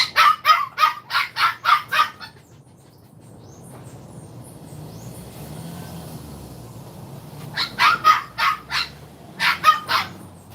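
A puppy at bath time gives quick runs of sharp, high yapping barks, a burst of about seven at the start and another near the end, with running water and shuffling between.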